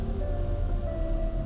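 Rain streams down in a steady, dense hiss, loud and continuous with no breaks or voices.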